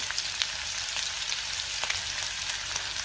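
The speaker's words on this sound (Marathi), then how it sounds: "तेल गरम झाले त्यामध्ये मी जिरे घालते त्यातच आपल्याला कांदा घालायचा" Cumin seeds and onion frying in hot oil in a pan, a continuous, even sizzling hiss with scattered small crackles throughout.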